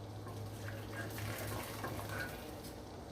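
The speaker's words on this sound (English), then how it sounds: "I'm going to pour my water right here" Hot water pours in a steady stream into a pot of curry chicken, a soft continuous splashing that stays fairly quiet throughout.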